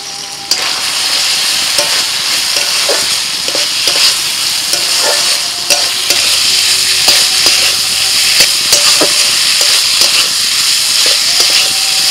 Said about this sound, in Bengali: মশলার সাথে মুগ ডালটাকে আমি কষিয়ে নিয়েছি মিনিট 2-3